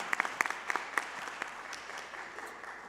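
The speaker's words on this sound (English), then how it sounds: "So you can clap for that." Sparse, scattered clapping from a small audience at a school board meeting, a few sharp claps at first that thin out into a faint, distant patter.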